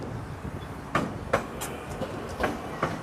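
A tram passes very close on its rails with a steady rolling rumble and several sharp clacks as the wheels cross rail joints.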